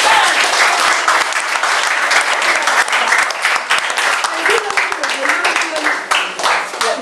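Loud congregation applause at a church healing service, vigorous crowd clapping with sharp individual claps standing out, while voices carry on underneath.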